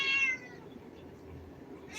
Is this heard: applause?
no